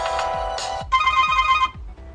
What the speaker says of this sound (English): So you can change the ringtone sound